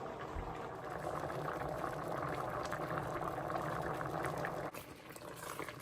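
A pot of noodles boils on the stove, giving a steady, dense bubbling and simmering that stays even throughout, with a slight dip near the end.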